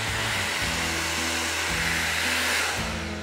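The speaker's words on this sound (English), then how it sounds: "It involves your blow dryer and your eyelash curler." A blow dryer runs close and loud with a steady whooshing roar while heating an eyelash curler. The motor pitch wavers slightly over a few seconds, and no one speaks.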